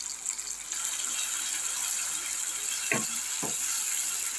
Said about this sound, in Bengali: এরপরে এই মশলাটা কষাতে থাকি অনেকক্ষণ ধরে কষানো হবে